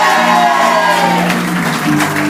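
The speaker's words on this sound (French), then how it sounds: "On applaudit là-bas dans le fond." A school theatre audience applauds during cast and crew introductions at a French student performance, a loud burst of clapping with faint crowd voices and sustained musical tones underneath.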